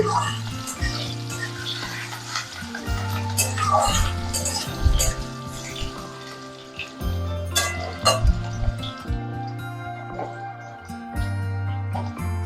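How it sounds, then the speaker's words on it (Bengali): Potatoes frying in oil in a pan, a steady close sizzle broken by clinks and scrapes of a utensil against the pan, with low rhythmic thumps recurring throughout. "প্রথমেই দিয়ে দিলাম আলুগুলোকে তেলের মধ্যে আলুগুলোকে একটু ভেজে নিচ্ছি"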